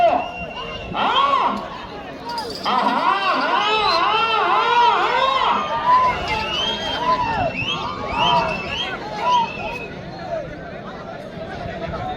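A crowd at a village bull race in Narava shouts and cheers in loud, rising bursts over busy chatter, with excited voices close by.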